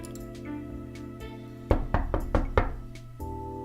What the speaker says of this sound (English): Knocking on the door woke me up.